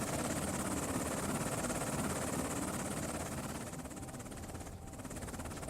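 A Mi-8 helicopter in the combat game Afghanistan '11 gives a steady, loud rotor and turbine roar that fills the whole stretch. It dips slightly near the end, and no one speaks over it.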